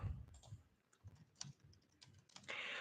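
Quiet, irregular taps and clicks from a computer keyboard with a sticky S key, typed at close range with no voices.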